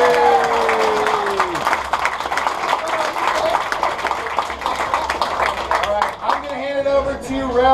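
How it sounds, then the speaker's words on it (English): Audience applause and clapping at a rally awards gathering, a dense wash of claps with scattered cheers and crowd noise, fairly loud and steady before tapering off near the end. "a round of applause."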